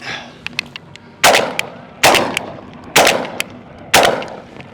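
A Turkish-made copy of a Benelli shotgun fires buckshot and slug loads: four loud, sharp blasts about a second apart, each with a short ringing tail, and fainter clicks and handling noises between them.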